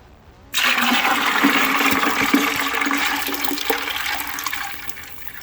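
Water rushing hard into a food-safe bucket as 1.5 gallons are filled for a turkey brine, starting abruptly after a brief quiet moment and then pouring loudly and steadily before easing slightly near the end.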